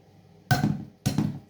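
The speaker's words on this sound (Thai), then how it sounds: "ตอกไข่ลงไปเลย" Eggs are cracked against a dish for home cooking: two sharp, distinct knocks about half a second apart, close and clear, each with a short ringing tail.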